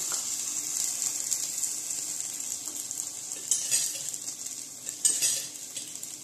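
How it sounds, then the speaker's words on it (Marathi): A small spoon scrapes and stirs food frying in a pan, with steady sizzling and light metallic clinks that sharpen near the end, close and fairly quiet. "परतून घ्या. एखाद्या छोट्या चम्मचने हे करा."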